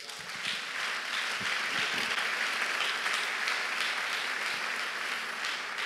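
A church congregation at a Sunday service applauds steadily and loudly, the clapping filling the room evenly from start to finish.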